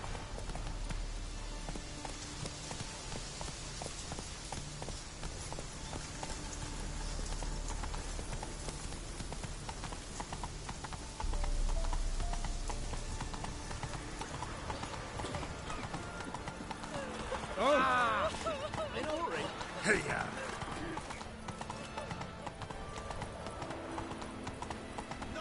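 The horse Roach gallops in The Witcher 3, with rapid steady hoof clip-clops running throughout, joined by rain-like patter and a brief louder rustle; voices talk over the hoofbeats at times.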